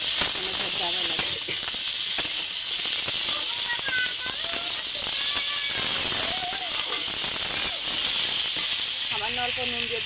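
Pineapple tipped into a hot pan with chillies and mustard seeds hisses in a loud, continuous sizzle, with a voice talking over it throughout.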